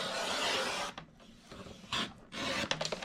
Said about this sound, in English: Now I'm going to take this and put it in my trimmer